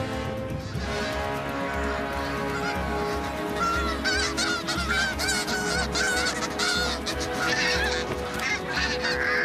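A dense, loud chorus of snow geese honks continuously and overlapping as the birds fight for nesting space in a crowded colony, with no voices over it.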